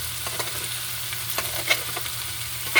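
Corned beef and potatoes being stirred in a frying pan, a steady low sizzle with repeated soft scraping strokes of the spatula and a couple of sharper clinks against the pan.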